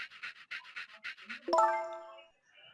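Dog panting in the video game Ghost Trick: a rapid run of short breathy pants, fairly close and steady, then a bright chiming ding ringing out and fading near the end.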